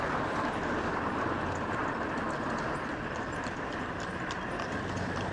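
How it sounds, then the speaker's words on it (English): A horse's hooves clip-clop along a road, heard from a moving bicycle on a group ride amid continuous wind and road rumble. "Horse ahead."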